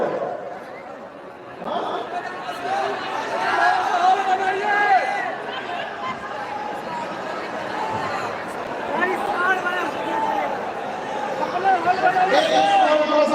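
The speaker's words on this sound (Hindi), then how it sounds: "अंदर भी तो भीड़ ज्यादा है" Large crowd packed into Bapu Sabhagar seminar hall in Patna for a Khan Sir seminar, steady dense chatter and babble with scattered laughter, loud and continuous throughout.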